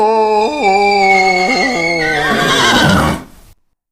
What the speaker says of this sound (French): Pour mesurer la valeur du courage, tout passe par le hennissement.